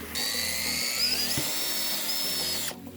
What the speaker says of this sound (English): here I have my drill and a diamond saw. No, I keep wanting to call it diamond saw. A diamond drill bit.